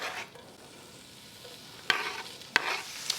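Bacon frying in hot oil: a soft, quiet sizzle punctuated by a few sharp crackles and pops, with faint stirring, heard close and alone.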